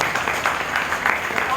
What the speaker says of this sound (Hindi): तो मैं फिर से एक बार इनके लिए तालियां चाहूँगा सभी